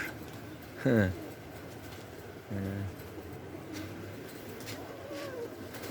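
Pigeons coo outdoors in two short, distinct bursts followed by softer calls, heard over faint background noise and traffic.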